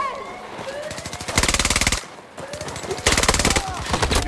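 Video game gunfire in rapid automatic bursts, loud and close, two long sustained volleys with shorter shots between, with a player shouting over the shooting.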